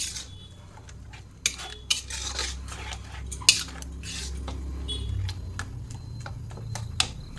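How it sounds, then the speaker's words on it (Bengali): Coconut being stirred with soaked jaggery in a pan on a gas stove, a spoon scraping and knocking against the metal in scattered clinks over a steady low burner hum. "এবার ভালো করে গুড় দিয়ে নারকেলটাকে পাকিয়ে নেব।"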